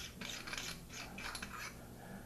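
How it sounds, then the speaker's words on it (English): Turret cap on a Weaver T36 rifle scope being unscrewed, a fine rapid ratcheting and threaded rubbing in short bursts, close-up and quiet, with no voice. "Caps screw down against a rubber washer."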